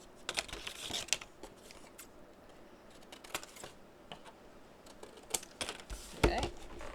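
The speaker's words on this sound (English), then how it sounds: "Let's miter these corners out with decent sized scissors this time." Decent-sized scissors snip corners off paper for a Stamperia mini album craft, a series of soft, quick clicking cuts scattered across a quiet room, close to the listener with faint background noise.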